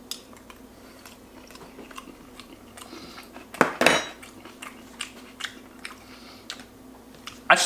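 A spoon clinks against a dish while tasting curry rice salad, with scattered small scrapes and taps across a quiet room and a couple of sharper clatters, close by.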